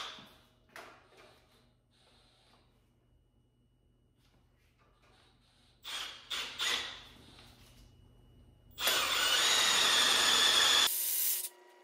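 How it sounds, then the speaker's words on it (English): Quiet handling and clicks, then a power drill whirs loudly for about two seconds near the end before cutting off. "Now we're ready to drill."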